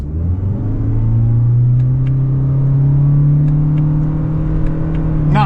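2026 Toyota Corolla Cross SE Hybrid accelerating from inside the cabin, a steady engine drone that rises with faint simulated upshift steps and a few light clicks near the end.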